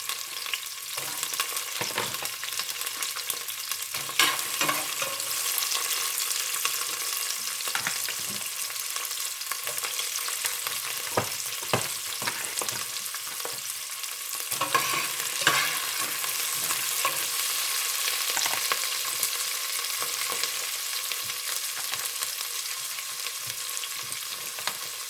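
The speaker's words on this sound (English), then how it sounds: "Then the chopped onion." Chopped onion and garlic frying in a pan for pork stew, a steady loud sizzle with intermittent stirring scrapes and clatter running continuously throughout, no voices.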